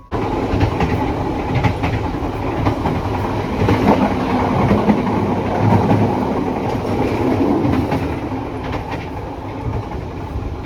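A train pulling into Jenar station in Central Java, heard from inside with a steady rumbling roar and faint clattering of wheels on rails that eases slightly toward the end.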